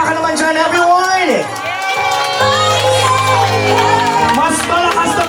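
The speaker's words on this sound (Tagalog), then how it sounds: "Mas malakas na palakpak!" Guests at a first birthday party in the Philippines cheer, whoop and clap together in a loud, lively burst, with a host talking over the crowd and shouts rising and falling.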